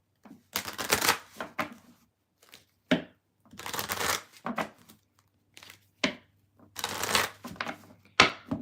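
A tarot deck is shuffled by hand in repeated bursts of riffling, crisp card flutters with short pauses between them, close and clear with no talking.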